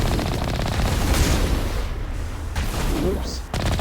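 Gunshots in the sci-fi game Mass Effect, a loud, fast run of weapon fire mixed with booming impacts, with a voice talking over the shooting.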